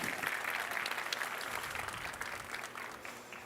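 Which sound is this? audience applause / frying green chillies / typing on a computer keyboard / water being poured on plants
audience applause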